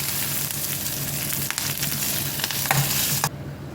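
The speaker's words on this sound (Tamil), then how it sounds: "கொத்தமல்லி ரொம்ப வதங்கக்கூடாது" Coriander leaves sauté in a hot pan with a loud, close sizzle and crackle, broken by a few clinks of stirring, before cutting off abruptly near the end.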